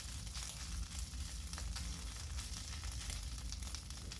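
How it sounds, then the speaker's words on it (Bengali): Ginger and green chili paste sizzling on a low gas flame while being stirred in a pan for a vegetarian soybean dish, a steady close broadband crackle with occasional spoon scrapes throughout, no voices. "এবার আদা আর কাঁচা লঙ্কাটা একটু নেড়ে চেড়ে নেব যতক্ষণ না আদার কাঁচা গন্ধটা চলে যাচ্ছে"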